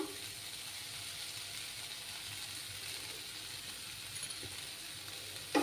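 About 200 grams of chhana (cottage cheese) hitting a hot pan gives a faint, steady sizzle, a soft even hiss throughout, with a small clatter at the very end.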